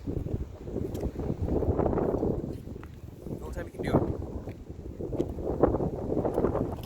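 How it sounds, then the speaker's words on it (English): Strong wind buffets and rumbles over the microphone in gusts, while a person speaks over it. "I know it's too windy here"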